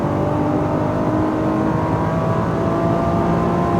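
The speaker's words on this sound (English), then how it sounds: "Full throttle. Very nice. Upshift." A Nissan GT-R on a racing circuit accelerates hard at full throttle and shifts up. The engine roar is loud, close and steady, with a dense, continuous drone that never lets up.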